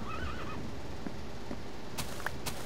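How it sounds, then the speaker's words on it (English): A horse in the video game Minecraft lets out one short, warbling whinny at the very start, heard over a steady bed of game background noise, followed by a few faint clicks. "Hey, it's a horse!"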